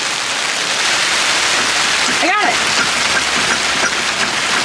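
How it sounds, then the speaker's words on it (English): Heavy rain falls steadily outdoors in Florida during the rainy season, a dense, loud hiss close by, with a brief spoken remark partway through. "rain's coming in, but check it out"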